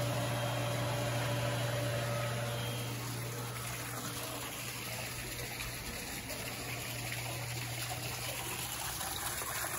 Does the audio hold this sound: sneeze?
no